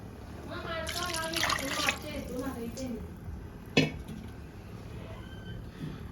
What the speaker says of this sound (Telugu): ఇప్పుడు నీళ్ళు పోసినాం కదా